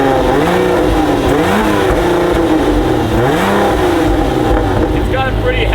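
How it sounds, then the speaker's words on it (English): A British car's engine revs up and down repeatedly, loud and close, with a whining supercharger rising and falling with each rev and bouncing off a heavy soft limiter. "you can hear that supercharger. You can hear it breathing."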